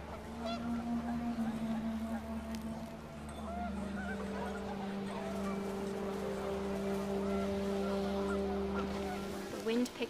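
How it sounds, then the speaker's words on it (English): Panicked geese honk in the video game What Remains of Edith Finch as wind picks up outdoors. Faint, sustained honking tones sit over a low steady rumble and last throughout. "The wind picked up and panicked geese appeared and quickly went"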